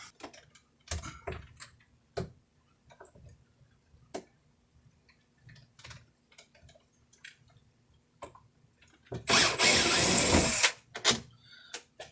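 An electric drill works on rusted screws in the door frame of a water-damaged RV wall, with scattered clicks and taps, then a loud whirring burst of the motor lasting about a second.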